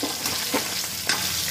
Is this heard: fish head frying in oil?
yes